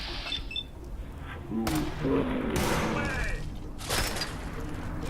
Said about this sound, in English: The woman in the base entrance started shooting.